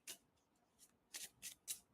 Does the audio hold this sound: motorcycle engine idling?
no